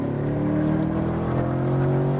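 A Porsche Cayman GT4 or C8 Corvette accelerates hard on a race track, its engine note rising steadily in a loud, continuous rev heard from close by, with no voices.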